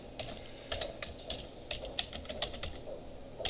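Keys clatter in quick irregular bursts on a computer keyboard, close and moderately loud, with brief pauses between runs of typing.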